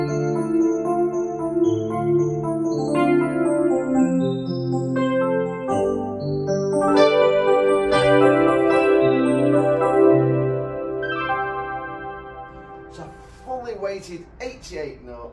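A Yamaha YDP164 digital piano plays a continuous flowing passage of notes and chords, shifting through different voice sounds, with a lighter, sparser stretch of notes near the end.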